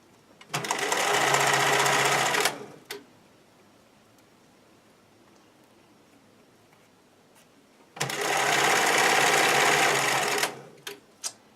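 A sewing machine zigzag stitches stretchy swimwear fabric in two loud bursts of rapid, buzzing mechanical whir, each a few seconds long, separated by a quiet pause.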